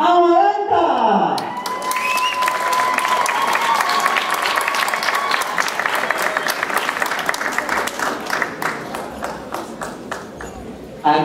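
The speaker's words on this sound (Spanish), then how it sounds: "Damas y caballeros, por favor, un gran aplauso para Amaranta." A live audience at a dance show bursts into loud sustained applause with some cheering for a dancer, the clapping dense and close, gradually thinning into scattered individual claps near the end.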